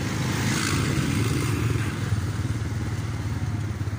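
A motorbike engine running and passing on a busy bazaar street in Dadyal, Pakistan, a loud steady rumble with clattering street noise around it and no clear talk.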